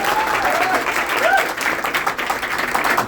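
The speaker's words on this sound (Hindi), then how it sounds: "एक बार जोरदार ताली होनी चाहिए" Loud, sustained audience applause at a gathering, dense overlapping claps throughout with faint voices or whistles mixed in.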